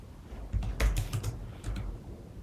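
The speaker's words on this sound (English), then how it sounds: "just hit enter and type in Monday, Tuesday, Wednesday" Quiet keystrokes tapped on a computer keyboard, a short burst of several clicks in uneven rhythm with a small pause, close and fairly soft.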